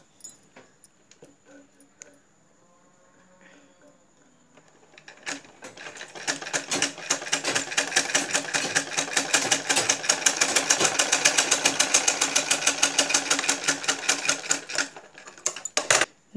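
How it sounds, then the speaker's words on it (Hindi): Sewing machine stitching fabric: after a few seconds of faint handling clicks, a fast steady mechanical clatter runs for about ten seconds, then slows and stops. "देखिए, हम यहाँ पर सिलाई करेंगे।"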